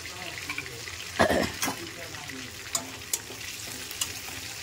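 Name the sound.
whole spices tempering in hot frying oil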